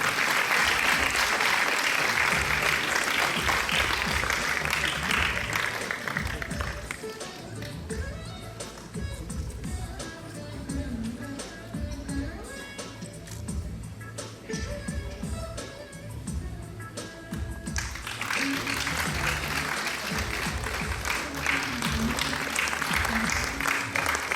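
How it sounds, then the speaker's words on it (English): Sustained audience applause at a Gita Jayanti silver jubilee celebration stage, loud and dense at the start and end with a quieter, thinner stretch of clapping in the middle as the crowd keeps going. "Please keep the applause coming."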